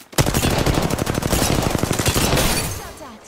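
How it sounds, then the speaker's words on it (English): Rapid automatic gunfire in the video game Apex Legends, a loud, sustained burst of evenly spaced shots rattling for nearly three seconds before trailing off. "Shot fired"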